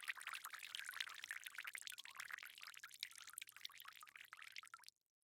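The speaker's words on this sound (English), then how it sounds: "She heard the sound of water running." Running water hisses and splashes steadily, a close, continuous pouring flow that cuts off abruptly near the end.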